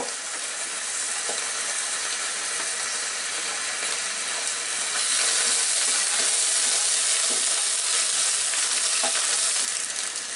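Ginger, garlic and green chili paste frying with onions in hot oil, a dense continuous hiss and crackle of spattering that swells louder midway, close up with no voices.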